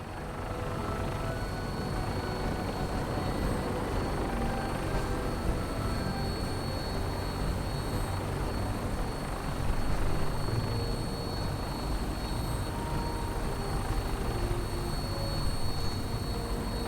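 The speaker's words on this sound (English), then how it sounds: "Now, we have a vertibird on standby, fully armed, and ready to depart." A Fallout 4 vertibird aircraft engine holds a steady, dense roar with a rotor-like whir, constant and fairly loud throughout with no talking.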